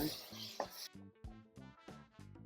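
Tomatoes and green chillies sautéed with turmeric in a pan, stirred with a utensil that scrapes and knocks in short repeated strokes over a soft sizzle, fairly close.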